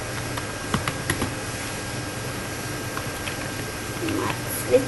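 Typing on a computer keyboard, a light patter of soft keystrokes under a steady background hiss, with a few louder taps standing out.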